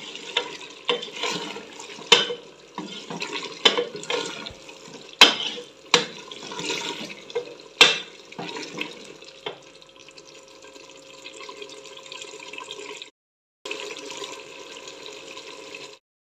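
Dishes being washed under a running kitchen tap, water splashing steadily with sharp clinks and knocks of utensils in the first half, then a smoother continuous flow with a brief pause before resuming.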